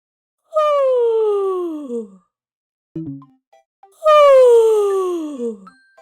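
A person mimics a cat's yawn with a voice: two long, drawn-out, downward-sliding tonal moans, separated by a brief, soft, breathy sound, close and clear with no other noise.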